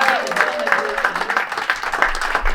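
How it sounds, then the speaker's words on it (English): Audience applause at a panel event, a loose patter of clapping with fairly regular hand claps, and a voice briefly heard over the start. "give yourselves a round of applause"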